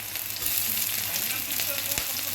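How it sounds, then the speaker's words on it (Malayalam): Mustard seeds spluttering in hot coconut oil in a pan, a steady close sizzle with scattered sharp pops throughout and no voices. "അപ്പോൾ നമ്മുടെ എണ്ണ ചൂടായി. വെളിച്ചെണ്ണയാണ്. അതിനകത്തോട്ട് കുറച്ച് കടുകിടാം."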